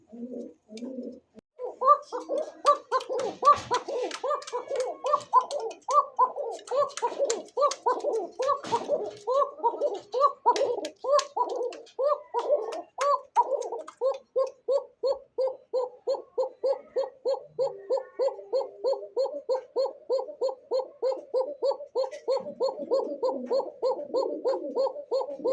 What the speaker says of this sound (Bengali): ককার যে ডাক আর দম দেখছেন রে ভাই